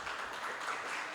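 A crowd at a political speech about Bolívar bursts into applause for the person who created the children's cardiology hospital. The clapping is steady, dense and broadband, with no voices over it.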